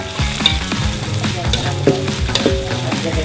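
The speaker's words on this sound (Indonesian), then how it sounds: "Tumis kunyit dan bumbu lain yang sudah dihaluskan sampai harum" Turmeric and ground spice paste sautéing in a pan, a loud continuous sizzle with scraping stirs and a few sharper utensil clinks throughout.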